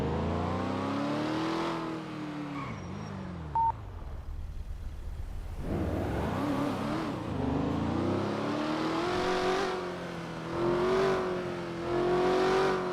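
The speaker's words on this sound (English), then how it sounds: "the engine sounds need to be turned down just a little bit" A car engine in the video game FiveM (GTA V) revs up and down in repeated rising and falling sweeps, loud and close, with a short electronic beep partway through and no talking.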